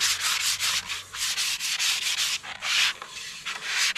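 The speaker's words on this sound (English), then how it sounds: "Now I'm going to go over that whole thing with the finer sandpaper." Fine sandpaper rubbed over a wooden canoe paddle being restored, a steady run of brisk back-and-forth scratchy strokes with short pauses between passes, close and alone.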